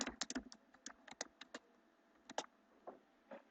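Numbers are typed on a computer keyboard as quick, faint clicking keystrokes in short bursts with brief pauses, heard alone without speech.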